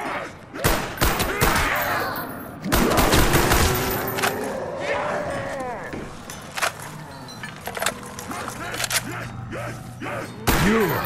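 Gunfire in the Call of Duty zombies map Kino der Toten, with loud bursts of rapid shots and thumps in clusters, broken by short pauses, alongside in-game character voices.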